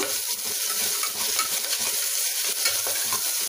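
Sliced onions and curry leaves fry in a pan for togarikalu sambar while being stirred, producing a dense, continuous close sizzle with faint scraping, heard alone for a few seconds.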